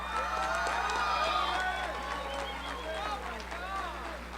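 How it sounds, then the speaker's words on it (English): Applause and cheering from the audience fill the room at a school all-sports awards banquet, a dense, even clatter of clapping that holds for several seconds over a low hum. "So a big round of applause for Dylan Portillo."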